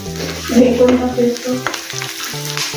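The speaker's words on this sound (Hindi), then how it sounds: "प्याज को भी हमने अच्छे से भून लिया है।" Onions frying in a pan, a loud close sizzle with stirring scrapes and clinks of a utensil against the pan.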